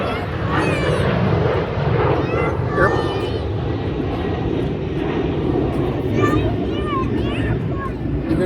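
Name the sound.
airplane flying over airport parking lot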